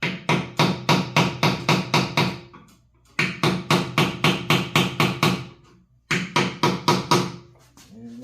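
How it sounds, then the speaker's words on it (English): Hammer blows on a cast part of a 1949 Farmall Cub tractor during disassembly: three bursts of rapid, evenly spaced metallic strikes, about seven to nine each, loud and close, separated by brief pauses. "This is cast, so you don't want to do a lot of beating on this, and then risk cracking it."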